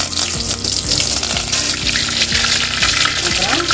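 Whole cinnamon, cloves, cardamom and curry leaves fry in oil in a pan for egg chukka, giving a steady, close sizzle with a low tonal hum underneath.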